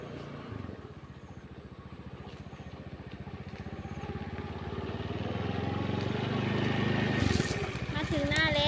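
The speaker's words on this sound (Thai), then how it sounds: "ก็ใช้ยานพาหนะมานะคะ มาทุ่งนาข้าวค่ะ" A vehicle driving along to a rice field, with a steady droning engine whose throb slowly builds in loudness throughout, closer and fuller by the end, with faint chirps over it at the finish.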